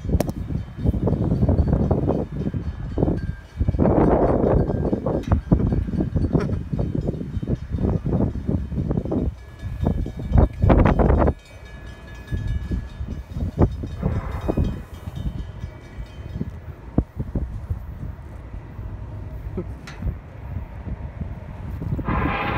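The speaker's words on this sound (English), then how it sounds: "Here comes the train, Norfolk Southern." A Norfolk Southern northbound train rumbles past close by, a loud continuous roar of rolling wheels and clanking cars with wind buffeting, easing off toward the end.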